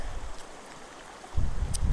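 A creek flows through snowy March woods, a soft, steady trickle of running water that becomes a fuller rush partway through.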